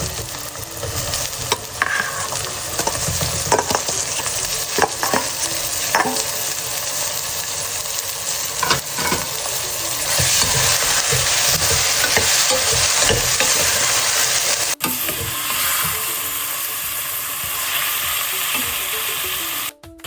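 Tomatoes sauté with onions in a single pot for cauliflower kurma, a loud, continuous sizzle with repeated scraping and knocking from stirring throughout.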